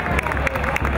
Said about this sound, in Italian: Un applauso anche a lei, madrina del 64esimo Carnevale di Muggia.